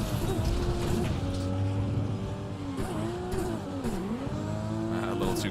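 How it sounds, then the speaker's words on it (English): Nissan GT-R with modded engine, gear-shift and exhaust sounds in Cyberpunk 2077, a steady loud engine drone with rising and falling revs through shifts and a brief tire squeal near the end. "I got a mod for that, for gear bands and shifting and exhaust sounds."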